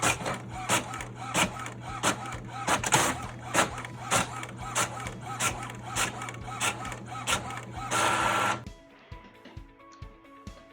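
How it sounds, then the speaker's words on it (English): A printer runs a board game print job, making a steady hum under rhythmic, repeated mechanical passes of the carriage. The sound cuts off abruptly near the end and leaves faint quiet behind. "now I am printing out the different stuff"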